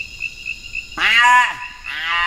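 A Baka hunter imitates a blue duiker call with two nasal, bleating cries, the first longer and louder, the second shorter, after a quiet, faintly buzzing background.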